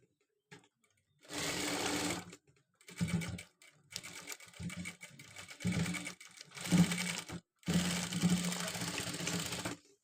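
A sewing machine stitches a designer sleeve in several separate bursts of steady whirring, each a second or two long and separated by short pauses, close and fairly loud with no talking.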